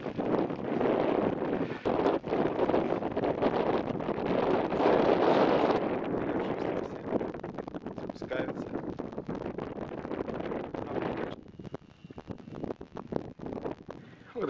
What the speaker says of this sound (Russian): пробую бороться с ветром, сдувает